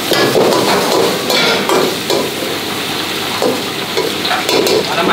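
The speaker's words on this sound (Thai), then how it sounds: "ใช้น้ำมันเนื้อในการผัดกะเพรา" Thai holy basil stir-fried in beef fat in a busy restaurant wok, a loud steady sizzle with repeated scraping and clanking strokes of the spatula close by.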